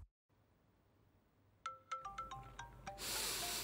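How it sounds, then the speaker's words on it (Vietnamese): A mobile phone ringtone plays a rapid sequence of bright electronic notes over a low hiss, close and clear, before a loud burst of broadband noise takes over at the end. "Là điện thoại của cô"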